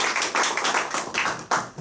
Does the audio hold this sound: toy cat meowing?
no